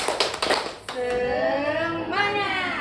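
A group of teachers and staff at a school training session claps a short burst of rhythmic patterned claps, then a chanted group cheer follows over the noise of the room.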